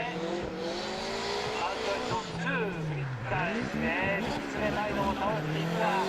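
Drift car, a DG5 at Sportsland Sugo in Formula Drift Japan qualifying, skidding after an e-brake pull, with loud sustained tire squeal and a revving engine whose pitch sweeps up and down, while a commentator talks over it.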